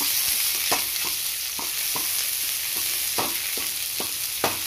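Garlic and onion sautéing in a pan, a constant close sizzle punctuated by about a dozen regular spatula scrapes and taps, no one speaking.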